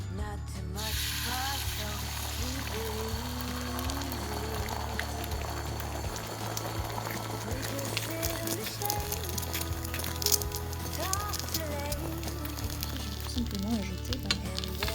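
Butter sizzling in a frying pan under a low steady crackle, with background hum and scattered kitchen clatter throughout.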